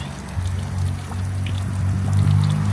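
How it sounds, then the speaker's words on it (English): Water pours and splashes steadily from an outdoor fountain in New Hampshire, a close, continuous gushing with a low rumbling undertone and no voices. "So interesting fountain. Almost looks like someplace you would come to get water"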